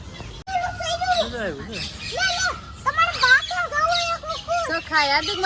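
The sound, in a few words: native parrots calling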